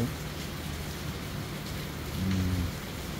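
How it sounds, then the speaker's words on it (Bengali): Steady rain falls in a continuous soft hiss, fairly faint and even throughout, with no voices. "খুব সুন্দর বৃষ্টি হচ্ছে"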